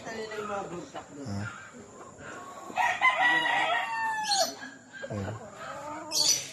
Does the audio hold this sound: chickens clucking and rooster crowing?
yes